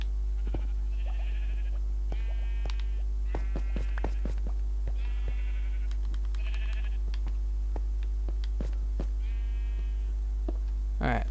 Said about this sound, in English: that's probably the sheep that I have on the other side of the wall